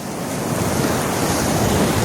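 Rough sea surge pounding the shore at Chembarikka Kallam Valappu, with a house only about ten metres from the water; a steady, loud wash of surf and wind noise runs unbroken throughout.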